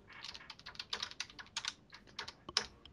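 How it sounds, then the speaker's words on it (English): Rapid typing on a computer keyboard, a quiet, fast, irregular clatter of key presses close to the mic with no voices. "What are you typing?"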